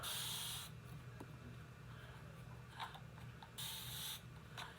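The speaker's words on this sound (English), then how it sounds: "But I just love how it actually spritz." Short bursts of spray from a spray bottle misting natural hair or a plant, two brief hissing spritzes at the start and near the end with quieter handling in between, close and fairly soft.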